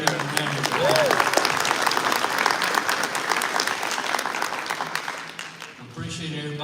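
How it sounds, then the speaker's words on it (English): Audience at a live evening farm event dinner breaks into sustained applause, a dense wash of clapping that holds steady for several seconds before tapering off as a voice resumes talking. "Let's give them a round of applause."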